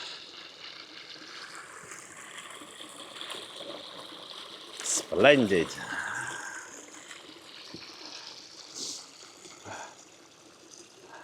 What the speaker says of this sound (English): There's even a Lincolnshire waterfall.